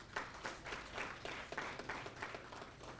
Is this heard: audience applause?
yes